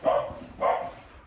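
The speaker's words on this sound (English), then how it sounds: "Dog's barking at something." A dog barks twice in quick succession near a barn, with fairly loud, clear barks separated by a short pause.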